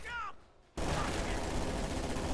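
PPSh submachine guns open fire on a Grenadier squad in a World War II strategy video game battle. Brief talk and a short lull give way to a sudden, sustained, loud burst of rapid automatic fire.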